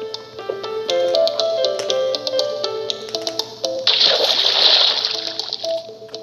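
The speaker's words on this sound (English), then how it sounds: "literally sounds like he's going in Minecraft water" Bright electronic Plants vs. Zombies game music plays, then a loud, brief splash of water bursts in for about a second before the tune carries on.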